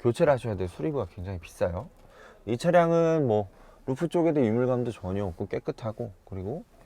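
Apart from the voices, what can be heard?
No everyday noise stands out behind the speech.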